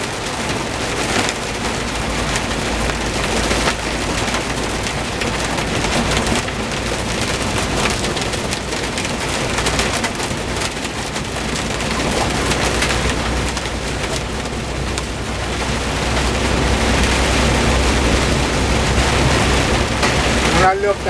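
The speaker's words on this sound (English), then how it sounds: "I don't know if y'all can tell how big this hail is coming down." Heavy rain and large hailstones pound a lease-purchase truck during a storm, a dense, steady roar of impacts that persists throughout with slight swells in intensity.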